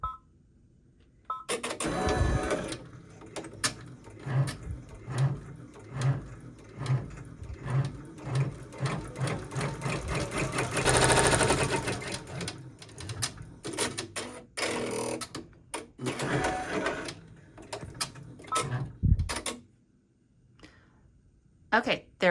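An embroidery machine stitches a placement outline on water-soluble stabilizer, its needle clattering in rapid, steady bursts with short pauses and a few beeps, while a person talks at intervals.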